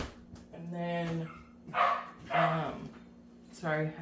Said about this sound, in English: I put my dogs outside, so they're gonna bark